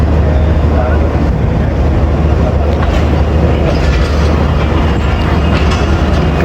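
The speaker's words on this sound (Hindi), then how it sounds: "मंडी वसावे वाला से हवेली वसावे वाला से जी ट्रेन डिपार्ट कर रही है" A passenger train of the Baba Fareed Express pulls out of Mandi Wasawe Wala station on a branch line, its wheels and carriages rumbling loudly and continuously close by, with a clatter of rails and voices faintly mixed in.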